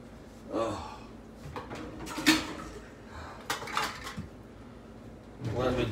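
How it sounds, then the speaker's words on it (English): Dishes from a meal of scrambled eggs and ribeye steak are picked up in a kitchen, giving scattered clinks and clatters of plates and cutlery, with a voice speaking quietly in the background. "Let me just grab these few dishes I had."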